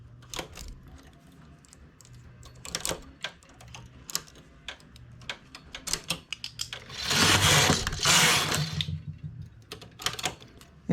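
A knitting machine works an edge finish for openings, its carriage clacking in irregular mechanical ticks, then swelling into a loud continuous rushing pass before the sparse clicks return.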